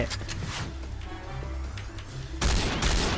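G36C rifle fire in the online shooter Point Blank, steady rapid shots through the first seconds, then a louder, heavier burst of blasts near the end.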